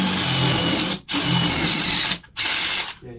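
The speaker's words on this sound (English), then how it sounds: "take a half inch masonry bit on a hammer drill and drill in the center of the pier" Hammer drill with a half-inch masonry bit boring into the center of a concrete pier, a loud, harsh, continuous grinding rattle in three bursts separated by brief pauses, close and alone.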